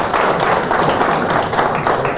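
Applause from an audience at a billiards lesson, a dense, steady wash of many hands clapping together, loud and continuous.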